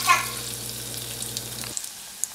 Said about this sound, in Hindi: इसको हिलाते हुए हम इसको सैलो फ्राई कर लेंगे।